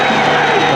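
Stadium crowd at a Nebraska vs Colorado State football game: a loud, sustained roar of cheering with no break across the brief moment.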